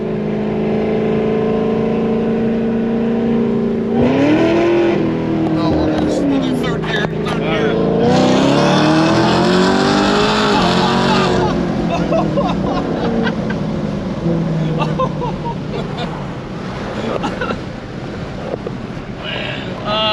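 A cammed Dodge Demon 170 in drag mode accelerates hard, its V8 roaring and rising through the gears over heavy wind rush, loud and close from inside the car, while people talk.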